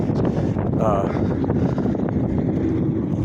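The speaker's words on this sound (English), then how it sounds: "It's pretty dang windy out today." Steady wind roars and buffets the microphone throughout, a dense outdoor rumble with no pauses.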